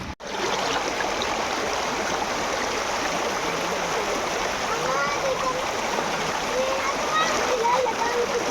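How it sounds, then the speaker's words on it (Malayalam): Water rushing and splashing steadily in a stream, a constant close-up burble that fills the whole stretch, with faint brief tones near the end. "ഈ ഒഴുക്ക് മാത്രമേ ഉള്ളൂ"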